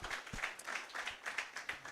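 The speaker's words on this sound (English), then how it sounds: "A round of applause first to Ngali." A small tech forum audience gives a round of applause, a thin, uneven patter of individual claps at moderate distance lasting a couple of seconds.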